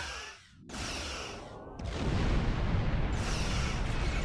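Starship weapons firing in the Star Trek Online video game during a battle against a Klingon Raptor-class escort: a sustained, loud barrage of booming blasts that swells and holds, with no speech.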